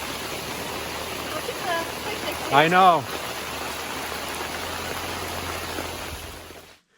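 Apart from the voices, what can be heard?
hail falling during heavy rainstorm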